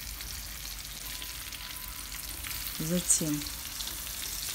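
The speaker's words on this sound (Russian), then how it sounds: "Начинаем поливать ее кипящим маслом." Mackerel frying in a pan while boiling oil is spooned over it, a steady close sizzle that swells briefly mid-way, with a short spoken word over it.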